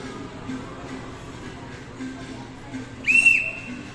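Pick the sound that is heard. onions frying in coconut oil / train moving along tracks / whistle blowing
whistle blowing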